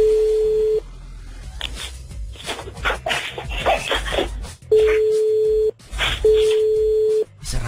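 An unanswered telephone call's ringback tone: three long, steady beeps separated by pauses, with people talking and background noise in the gaps.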